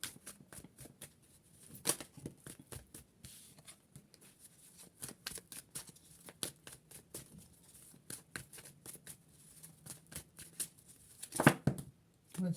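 Oracle cards shuffled during a love reading, with scattered papery flicks and slaps in irregular bursts, close and soft, getting busier and louder toward the end, and no speech.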